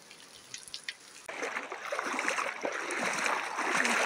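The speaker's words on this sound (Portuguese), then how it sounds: "Mostrando um pouco para vocês como se encontra aqui, ó, a correnteza no nosso riacho." A small creek swollen by heavy rain in Brazil's Northeast flows with a steady rushing, splashing current that grows louder and fuller after a faint start.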